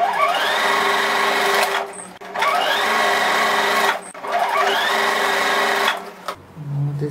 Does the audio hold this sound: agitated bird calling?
no